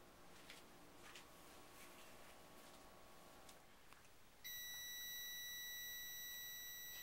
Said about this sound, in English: My timer's beeping, so I'm going to turn it off